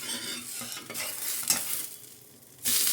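A dosa fries in oil on a hot pan, giving a close, continuous sizzling hiss. Short scraping and stirring bursts come and go, and the sizzle surges loudly near the end.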